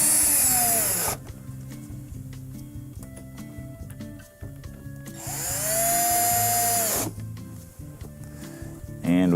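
Power screwdriver whirs in several bursts, rising in pitch as it drives Phillips screws into a Samsung dishwasher during a drain pump and inlet valve repair, close and loud.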